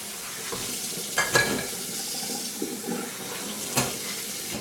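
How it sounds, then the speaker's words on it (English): Water splashes and trickles in a kitchen sink as washed dishes are rinsed, a soft steady wash broken by a few brief clinks and sloshes, with no voices. "Give them all a quick rinse."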